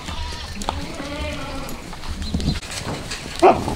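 Goats bleat nearby, a few drawn-out cries with a sharper bleat near the end, over shuffling and scraping farmyard movement.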